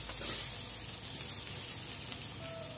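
A pinch of chilli powder fries in a pan, producing a faint, steady, even sizzle with no other sounds.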